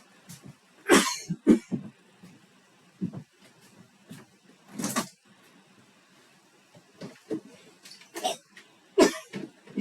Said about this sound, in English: I don't want to cough in your face